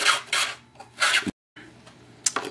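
Sandpaper glued to the end of a tail boom and turned around inside a hole, giving short, close, raspy scraping strokes in bursts separated by brief pauses.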